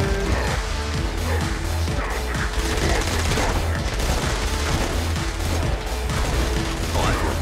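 Dense, continuous gunfire from a sniper rifle in Saints Row IV's Gat out of Hell, sounding as loud rapid bursts over a heavy, busy battle din with no clear pauses.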